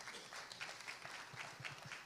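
Faint, distant applause rolls through a hall at an award ceremony for a startup idea competition, a steady wash of many hands clapping with no clear voices.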